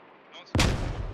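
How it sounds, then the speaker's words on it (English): A grenade explosion in the tactical shooter Squad: a sudden loud, close blast hits partway through after a quiet lead-in, followed by a rumbling decay. "Grenade comes in, not close enough. More grenades coming in."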